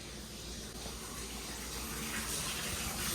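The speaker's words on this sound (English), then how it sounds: "Gotta turn off the water" Water running steadily from a tap into a bathtub or sink in a house, continuous gushing hiss that grows slightly louder toward the end, no talk.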